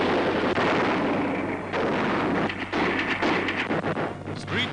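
Tanks firing on a WWII newsreel battlefield as Canadian riflemen advance, a dense, loud barrage of booming gunfire and blasts rolling almost continuously with no pauses.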